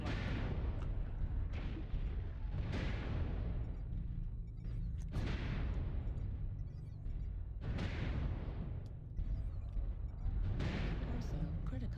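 Artillery strike in the mech combat game MechWarrior Online, heavy booming explosions landing in a repeating series of about five blasts, each with a rumbling low tail, loud and close over continuous game noise.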